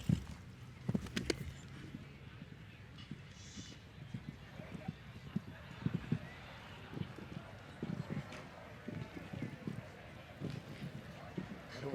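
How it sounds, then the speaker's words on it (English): A show jumper's hooves pound the turf of an outdoor show jumping course at a grand prix event, giving a faint, uneven clip-clop of galloping strides and landings under steady commentary and crowd ambience. "That horse handled that triple probably as easy as any of them."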